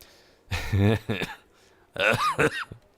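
Two bursts of coughing, a harsh cluster of coughs followed after a pause by another, close and fairly loud, with a laughing edge.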